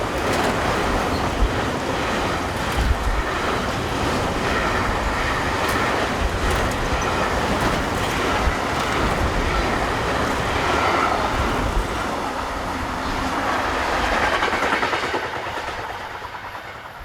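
An eastbound intermodal freight train headed by locomotive 193163 rolls past at Klein-Breitenbronn with a loud, continuous rumble and clickety-clack of wagons on rail, holding steady before easing off at the end.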